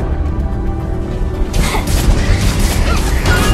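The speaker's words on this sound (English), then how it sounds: "Your tower has been destroyed." A tower collapses in the Arena of Valor mobile game with a loud booming crash and crumbling debris over ongoing game effects, heard up close.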